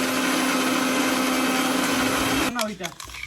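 A blender whirs loudly and steadily while blending food with sauce, then cuts off abruptly near the end as a voice begins speaking.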